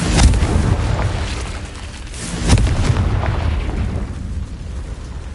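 A Confringo blasting spell in Hogwarts Legacy detonates with booming explosive bursts, a strong hit at the start and another midway, each trailing into rumbling debris.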